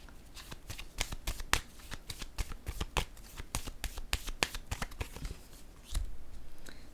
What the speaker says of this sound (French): Je vais mettre une carte ici.